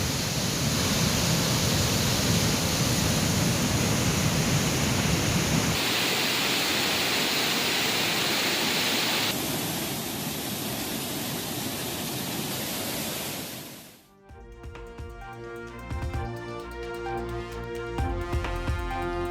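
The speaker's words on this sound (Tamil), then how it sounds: "தேனி மாவட்டம் சுருளி அருவியில் 9வது நாளாக ஆர்ப்பரித்து கொட்டும் வெள்ள நீர்" Flood water roaring down Suruli waterfall in Theni district: a dense, unbroken rush of water for about fourteen seconds, loud and even, then cut off by music.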